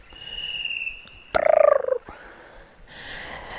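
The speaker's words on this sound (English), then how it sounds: "that's a, what is it, a cuckoo bird" A cuckoo calls in Bungonia Gorge, a steep-walled slot canyon in NSW. A loud burst of rapid call notes rises in the middle, with fainter calls before and after echoing in open air.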